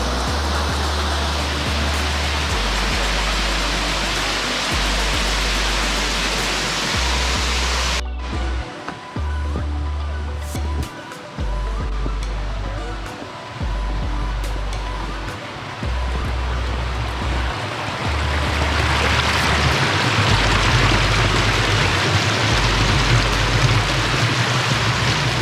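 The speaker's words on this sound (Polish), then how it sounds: "Na końcu dochodzimy do przepięknej laguny. Zewsząd widać wodospady." Steady broadband rush of waterfalls pouring into a lagoon on a Madeira levada trail, a continuous loud roar of falling water that swells toward the end, with a low rumble underneath and no talking.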